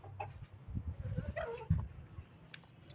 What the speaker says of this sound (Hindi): ये हमारी सबसे पहली मुर्गी थी जो आई थी देसी मुर्गे के साथ।